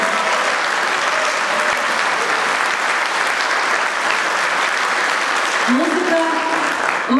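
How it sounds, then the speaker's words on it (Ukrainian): An audience applauds steadily and loudly throughout, a dense clapping crowd at a Ukrainian concert marking the 50th anniversary of the Prosvita building, with a brass band performing. "Ваші аплодисменти."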